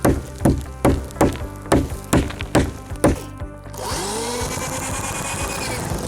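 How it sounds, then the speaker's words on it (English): A power drill drives screws into roof rafters during a shingle replacement job. A run of about eight sharp, evenly spaced knocks comes first, then a steady, close motor whine. "I go ahead and drill screws everywhere on every rafter"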